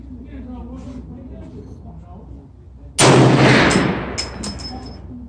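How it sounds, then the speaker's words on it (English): A single loud, sharp report from a Bear Creek 450 Bushmaster rifle fired on a range with a 50-yard target, cracking close by and rolling off in a decaying echo. Someone talks quietly before the shot. "here's a 4 shot at 50 yards with Bushmaster"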